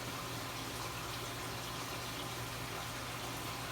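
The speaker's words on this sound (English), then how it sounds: "I actually have water feeding into this tank 24 hours a day, 7 days a week." Water feeds continuously into a drilled aquarium tank, a faint, steady trickling hiss of inflow that never varies, heard alone and at low level.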